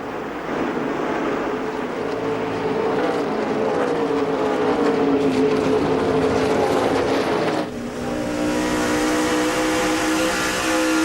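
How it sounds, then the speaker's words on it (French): NASCAR Nextel Cup stock cars, Dodge Avengers among them, race at Darlington, their engines roaring loud and continuous with rising and falling pitch as cars pass, and a sharp shift as the field sweeps by. "celui d'un Kyle Busch qui dépasse Dale Earnhardt Jr. Junior un petit peu là"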